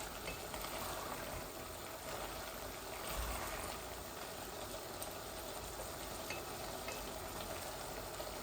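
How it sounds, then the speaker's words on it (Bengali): Koi fish fry in hot oil in a pan, giving a steady, even sizzle that carries on unbroken with no talking over it. "আমার মাছ ভাজিটা হচ্ছে দেখুন খুব সুন্দর হয়েছে"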